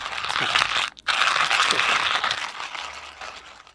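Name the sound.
coffee beans being ground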